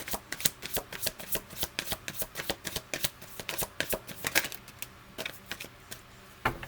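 Tarot cards are shuffled in a long run of crisp, rapid riffling flicks that keep an irregular rhythm and stay close and clear, with no voices over them.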